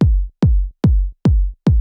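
A trance kick drum without its top kick layer thumps five times at an even, quick pace, each hit a loud, booming low punch that decays into a short tail.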